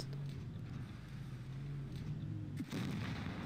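Heavy gunfire from a tank firing high-explosive shells in a tank combat video game, heard as a loud, continuous low rumble with a sharp blast near the end.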